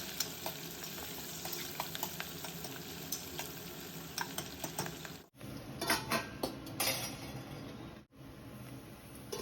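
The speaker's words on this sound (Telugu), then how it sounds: "ఆనియన్స్ని కొంచెం కలర్ చేంజ్ అయ్యే వరకు కొంచెం ఫ్రై చేసుకుందాము" Onions and green chillies frying in a pan for Avakaya biryani, a steady close sizzle with stirring scrapes and light utensil clinks, briefly cut off twice.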